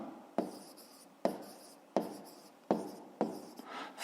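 A pen scratches across paper in about five short strokes, each starting sharply and then fading, close and quiet, while a triangle's side is noted down during a fifth-grade math exercise.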